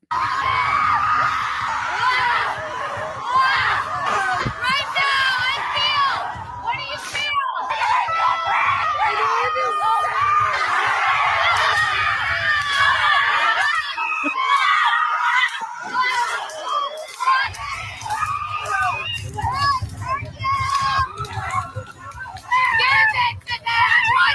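Women scream and shriek in the woods at a rage ritual, loud and sustained for the whole stretch. Cries overlap into a crowd-like wail that drops out briefly near the middle and then swells back.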